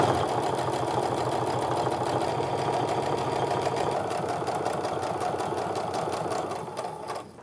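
A sewing machine runs fast and steady as it stitches a second line along a fabric wristlet. The rapid, even hum and needle chatter continue for several seconds, then slow and stop near the end.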